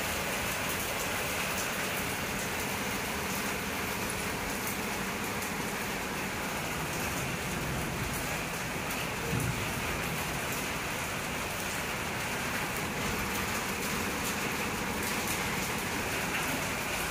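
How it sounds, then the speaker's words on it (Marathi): Heavy rain pours down in a dense, unbroken hiss, even and moderately close for the whole stretch with no voices. "जोराचा असा पाऊस चालू झालेला आहे।"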